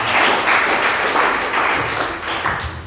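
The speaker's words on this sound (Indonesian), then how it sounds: "Kasih tepuk tangan untuk Tuhan Yesus." A church congregation applauds during a Sunday service sermon, dense clapping filling the space at a loud, steady level before tapering slightly toward the end, with no voices over it.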